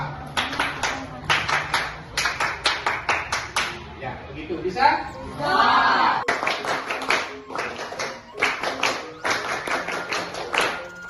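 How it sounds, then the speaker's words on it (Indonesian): A class of schoolchildren performs the Pramuka scout clap, sharp rhythmic bursts of unison clapping in patterned groups, pausing midway while a teacher and children talk, then resuming in quick repeated sequences. "Tepuk pramuka"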